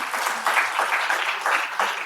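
Audience at a memorial lecture claps for a guest standing at the front, a short burst of steady, fairly close applause with rhythmic individual claps.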